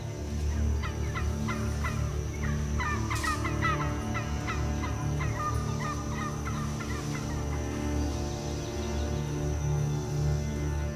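Several rival turkeys gobbling in repeated bursts, their rattling calls overlapping at close range over a steady low rumble of outdoor background noise, with no talk.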